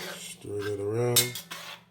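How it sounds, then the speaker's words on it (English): A spoon scrapes and clinks against a pot while stirring rinsed canned black beans with a teaspoon of ketchup for Caribbean-style black beans, a brief, close-up metallic rubbing lasting under two seconds. "Stir it around."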